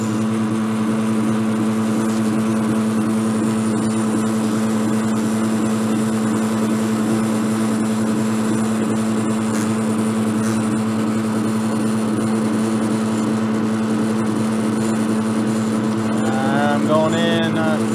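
A horizontal milling cutter sharpening fixture runs steadily with heavy vibration, a continuous droning machine hum with strong tonal bands throughout, loud and close, with a brief rising whine near the end.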